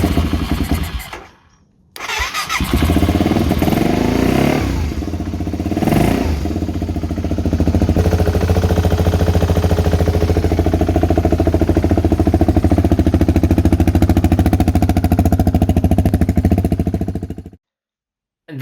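BMW G650GS Sertao single-cylinder motorcycle engine cranking and catching after a spark plug heli coil repair, then idling loudly and steadily up close with a rapid chugging clatter before cutting off abruptly.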